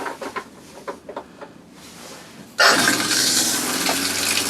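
Water bursts on and gushes steadily from a small camper's shower while it is being winterized, loud and sudden after a few quiet seconds of faint knocks and clicks.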